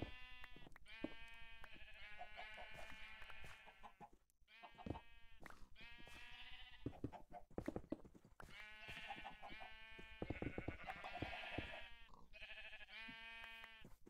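Sheep in Minecraft bleat repeatedly in overlapping calls, a loud, steady chorus of nasal cries with brief pauses, on a 1.12 multiplayer server.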